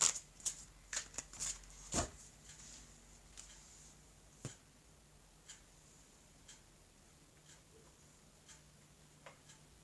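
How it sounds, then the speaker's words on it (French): A deck of oracle cards being cut and handled on a table, a cluster of quick soft slaps and flicks at first, then sparse light ticks spaced out, faint and close in a quiet room. "Je vais couper ce jeu et je vais recouvrir les cartes."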